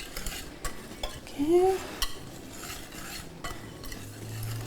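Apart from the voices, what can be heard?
mixing dry ingredients for eggless chocolate cake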